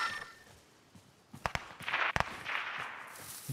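A handful of sharp gunshots in Call of Duty: Modern Warfare aimed at a helicopter, scattered cracks over a low wash of noise, fairly faint overall.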